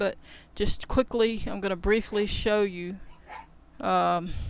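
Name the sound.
dogs barking at night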